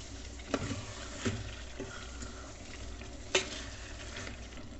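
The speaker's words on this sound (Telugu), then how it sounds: "బిర్యానీ మసాలా వేసి ముక్కలు బాగా పట్టాలి ఇప్పుడు" Chicken pieces frying in a pan with biryani masala, a quiet steady sizzle with a few soft stirring clinks, no voices.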